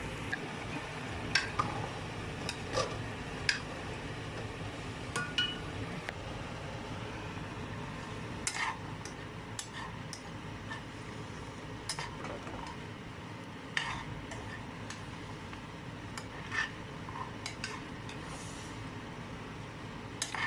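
Spiced peas being stirred in a hot pan, a quiet, steady background sizzle broken by scattered light clicks and scrapes of the utensil against the pan, with no speech.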